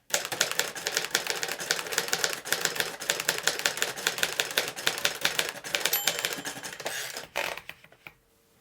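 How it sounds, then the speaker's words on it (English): A Royal Arrow manual typewriter types in a brisk, steady stream of snappy keystrokes, close and loud, with no voices, stopping abruptly near the end. "I can't stress enough how nicely this typewriter is typing"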